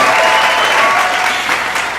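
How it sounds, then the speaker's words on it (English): A studio audience claps and cheers in a loud, dense, continuous burst that fills the room from start to finish without any voices over it. "crowd, give them a round of applause, please"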